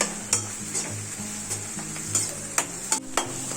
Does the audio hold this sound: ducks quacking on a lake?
no